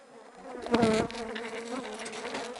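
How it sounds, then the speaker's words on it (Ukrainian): Honey bees buzz around frames lifted from a hive in an apiary, a dense close hum with a louder swell near the start as bees pass the microphone, then a steady drone. "тут тобі бджоли крутися"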